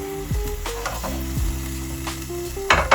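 Thinly sliced potatoes and onions frying together in a pan, a busy sizzle broken by clinks and scrapes of a utensil against the cookware, with no one talking.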